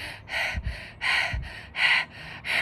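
A voice imitates rapid panting, quick breathy in-and-out huffs repeating in a steady rhythm, close and fairly loud with no talking.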